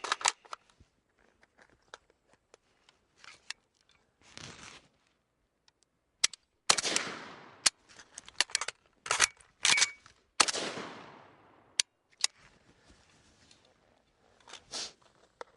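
Metallic clicks, snaps and rattles of an AK rifle magazine being removed and reinserted during a thumb reload, coming in quick close bursts with short pauses between them and no talk.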